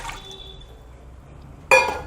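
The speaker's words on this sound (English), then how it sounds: "I am putting 1 glass of water." A glass of water goes into a pressure cooker over a high gas flame for cooking mutton tripe, with a soft liquid pour and faint clinks followed by a sudden louder splash and clatter near the end.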